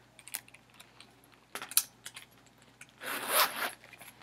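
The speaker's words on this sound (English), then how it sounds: "There is a zipper all the way around." Zipper running around a wallet, with scattered small clicks and rasps followed by a longer, brighter zip pull up close near the end, fairly quiet.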